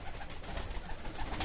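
Baku pigeons coo softly and repeatedly in a noisy loft, fairly close, with no talking.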